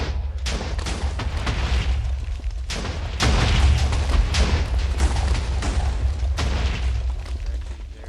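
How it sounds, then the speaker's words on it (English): Easter egg TNT from the Minecraft Lucky TNT mod going off as a rapid chain of loud, booming blasts, overlapping deep rumbles and sharp cracks that swell in the middle and continue for several seconds. "pretty big explosion."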